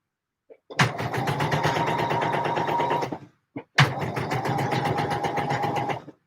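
A sewing machine hems a McCalls 7537 dress, running in two steady, loud bursts of whirring stitching separated by a short pause and a brief click.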